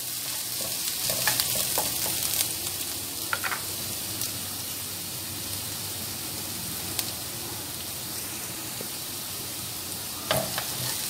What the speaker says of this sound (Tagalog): Unahin natin ang luya. Ayan, bisala natin siya ng konti.